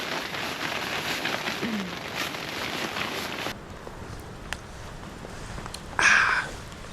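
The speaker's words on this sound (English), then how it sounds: "The rain is not stopping." Rain patters on a leaky tent at a motorcycle campsite, a steady fine hiss that eases partway through, with a short louder rustle near the end.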